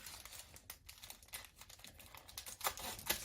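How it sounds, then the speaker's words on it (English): Scissors snip and crinkle through the plastic wrap around a package of phyllo dough, a dense run of small close crackling cuts in a home kitchen with no talk. "So I'm just going to take a scissors to it."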